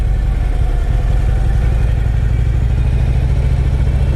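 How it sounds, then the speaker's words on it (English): A motorcycle rides around a parking lot, its engine giving a steady, mid-distance throbbing rumble that runs continuously with no talking. "there's a motorcycle riding around up here"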